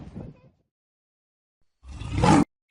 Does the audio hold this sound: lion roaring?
yes